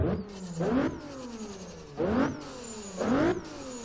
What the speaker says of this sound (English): Huge blow-off valve sound.